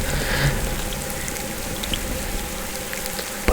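Steady rain patters onto a lake surface at night in the Fishing Planet game, an even hiss of drops with occasional louder splashes, fairly close and without talking.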